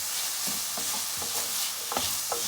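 Enoki mushrooms stir-fried with ginger and garlic in a hot pan hiss steadily, while a spatula scrapes and tosses them in several distinct strokes, close and without any voice.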